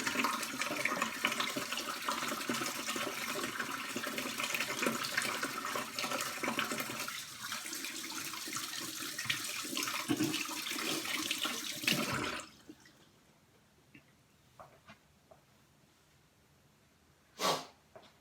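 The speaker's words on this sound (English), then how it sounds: "Give our hands a good wash here." Tap water runs steadily and loudly while hands are washed in a sink, then cuts off, leaving near silence with a few small knocks and one brief splash or clatter.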